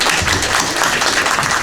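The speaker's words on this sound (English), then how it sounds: "Let's give her a round of applause." An audience at a health talk applauds a nurse speaker from Memorial Healthcare System, a dense steady burst of clapping close by for a moment.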